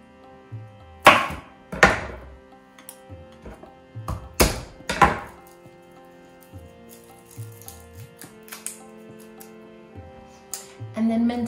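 Peeled garlic cloves are minced with a knife on a board for a cabbage-roll filling. A few sharp, loud chopping knocks come in bursts, followed by lighter scattered taps and board knocks.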